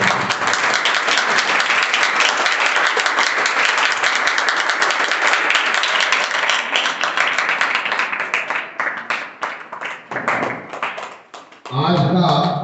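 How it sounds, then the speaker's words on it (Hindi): Loud, dense audience applause at the opening of a math session, sustained clapping that thins and breaks up toward the end before a voice begins speaking. "आप जोरदार तालियों की बरसात करें"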